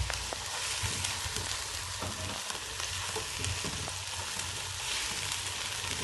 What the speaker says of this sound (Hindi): अब हम इसमें अदरक लहसुन का पेस्ट 2 टेबल स्पून में डाल रहे हैं